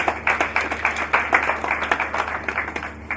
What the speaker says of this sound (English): Please, a round of applause for our judges.